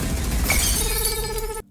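A glass bottle shatters during a fight scene in a film, a loud crash with bright clinking shards and scattered debris, ending abruptly.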